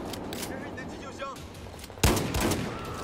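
Shotgun fire in the Battlefield 4 multiplayer video game: one sharp, loud blast two seconds in, following busy game noise and faint effects.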